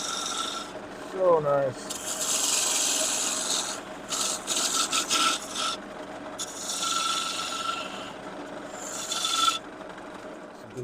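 Wood shavings thrown from a woodturning lathe as the tool cuts, a steady rasping scrape in bursts of varying loudness with short pauses, close by, with a brief spoken remark over it.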